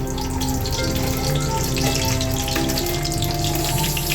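Dried red chillies sizzle in hot oil for tempering, a steady loud frying hiss that carries on unbroken with no speech over it.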